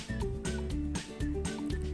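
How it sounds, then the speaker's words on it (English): Turkey gobbling in a farm setting, a loud run of rapid, warbling calls repeating in quick bursts throughout. "It is a turkey."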